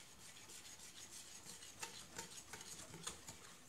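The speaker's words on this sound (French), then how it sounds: "Et je remue." Yogurt cake batter being stirred in a mixing bowl, a soft continuous scraping and swishing with light clicks of the utensil against the bowl, close but faint, no talking.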